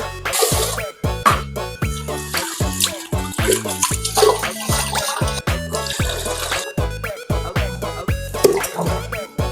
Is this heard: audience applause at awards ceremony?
no